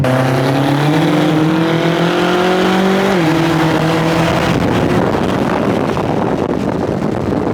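A 900 BHP BMW M6 pulls hard in third gear on a highway, its engine note climbing loud and close with rising harmonics, then roaring into a broad rushing wind-filled drone as speed builds, no speech.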